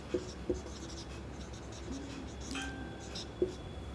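Quiet writing while working a triangles geometry problem, soft scratchy pen strokes with a few light taps and clicks at close range over a low background hum.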